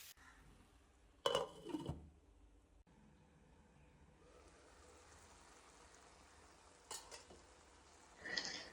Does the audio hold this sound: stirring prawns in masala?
yes